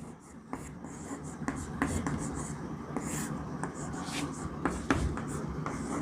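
Writing on a board during a Class 12 physics lesson on capacitors gives quick scratches and sharp taps at an irregular rhythm, close up, with faint murmured speech in the background.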